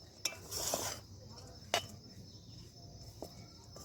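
Spoon scraping and clinking against a metal pot while cardamom is stirred into a Joynagar moa sweet mixture, a few distinct clanks over soft low rumble, close and fairly quiet.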